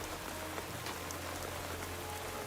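Steady rain patters on surfaces in the video game Throne and Liberty, a soft, continuous hiss of drops with a low background hum and no voices.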